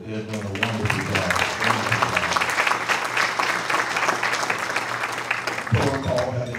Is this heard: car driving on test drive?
no